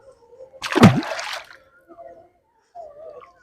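Fishing bait is tossed into water, making one sharp, close splash followed by faint trickles and small drips in an otherwise quiet outdoor setting.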